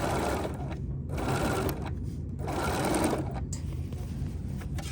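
A sewing machine stitches quilt fabric with a quarter-inch seam, running in loud, close bursts of rapid whirring with brief pauses as the fabric is guided through; a faint voice may be present.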